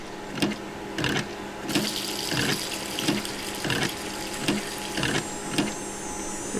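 Water runs from a tap in a Nancy Drew game, a steady rushing stream with regular mechanical clicks repeating roughly once per second over the flow.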